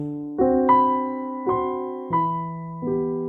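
An interrupted cadence drawn from the harmony of Bach's Prelude in G, BWV 1007, sounding as a series of sustained chords with distinct attacks, each decaying before the next, played alone.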